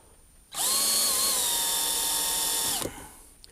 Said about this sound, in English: I'm just going to go to start my drill bit just on that